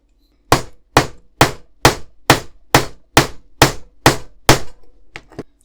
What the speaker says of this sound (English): it might help to have a little sort of like tack hammer just to knock that in with